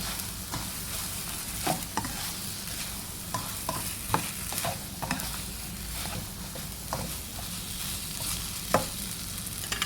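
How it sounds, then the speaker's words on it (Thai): Glass noodles stir-fried with egg and minced pork in a pan give a continuous sizzle, with frequent scraping and clicking of a spatula against the pan, close and steady throughout. "ใส่วุ้นเส้นลงไปนะคะ แล้วก็ผัดให้เข้ากัน"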